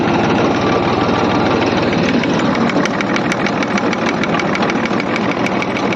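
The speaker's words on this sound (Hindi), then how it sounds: "देखो ट्रैक्टर बिल्कुल स्लो स्पीड में चल रहा है, बिल्कुल एकदम स्लो पर।" A low, steady engine of an old-model tractor chugs at slow idle with a rapid, even knocking pulse, loud and continuous throughout.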